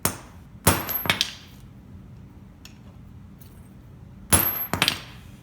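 Hammer blows on a punch seating a new bushing into the wiper linkage of a 1970 Plymouth Cuda, two sharp metallic strikes, a long quiet gap, then two or three more close, ringing taps.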